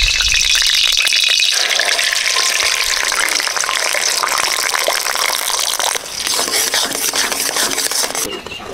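An egg goes into a hot pan and fries, a bright continuous sizzle and crackle that stays loud throughout, easing slightly toward the end, with no talking.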